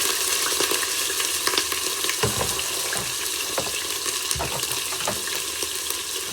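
Veal filet mignon browning in the pot of a Cookeo multicooker, with a loud, steady sizzle and a few dull knocks and shifts as the meat is moved.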